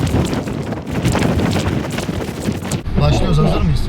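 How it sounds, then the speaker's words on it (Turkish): Strong gusty wind on a snowy mountain buffets the microphone in loud, continuous roaring bursts, easing briefly near the end before surging again. "Çok rüzgar var."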